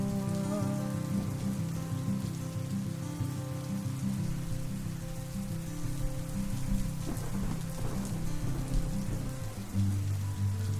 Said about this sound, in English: The rain is pouring down all over me.